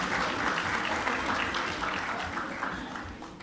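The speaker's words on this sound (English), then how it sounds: "Please give me a round of applause." Steady applause from a seated audience at a winter school session, a dense wash of many hands clapping together that holds loud and even for the whole stretch, fading slightly toward the end.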